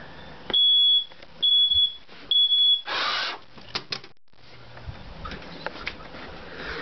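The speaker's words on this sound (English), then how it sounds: "real fire alarm" An ionization smoke detector sounding a real fire alarm: three loud, sharp high-pitched beeps in a row, followed by a burst of noise and then quieter clatter and room sounds.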